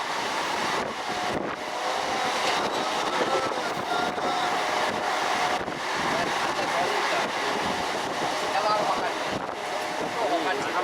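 A nearly empty local passenger train runs on rails toward Namkhana, a steady rumbling roar with rhythmic clatter and wind buffeting, sustained throughout at close range.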